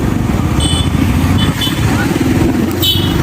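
A motorcycle rides along a college road, its engine droning loudly and steadily up close throughout, with wind and road noise and voices heard over the motor.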